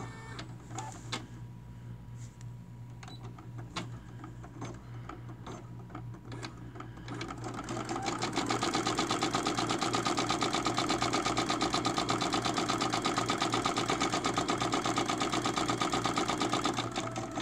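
Brother PE 770 embroidery machine starting up: some faint clicks and whirring, then a loud, steady, rapid mechanical stitching hum that carries on without pause.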